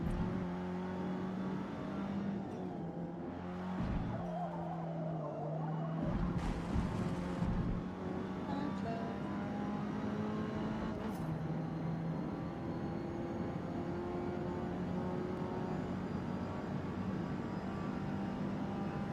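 Engine of a car in a multiplayer racing game drones and revs continuously, a loud steady roar with shifting pitch and a few sharp transient bursts.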